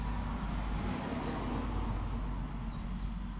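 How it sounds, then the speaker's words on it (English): Steady, faint broadband road rush from cars passing near Frederick Butte Road, a continuous low hum with no clear individual pass-bys and no talking. "Cars."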